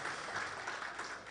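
Applause from an audience at a data center launch ceremony, a short, faint, even wash of clapping from a distance.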